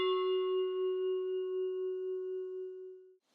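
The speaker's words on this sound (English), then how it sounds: "And a bell embellishment." A single bell tone rings out clearly and sustains with a gentle shimmer, slowly fading over about three seconds before cutting off.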